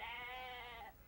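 Sheep bleat on a farm in one drawn-out, quavering call, close and clear, that fades at the end.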